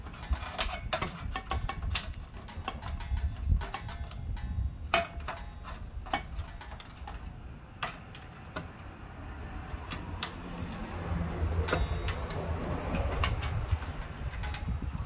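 Metal wrench work on an espresso machine group head, tightening the shower screen screws with a number 11 spanner: a steady string of small close ticks and clicks, some sharper taps among them, continuing over a low background hum.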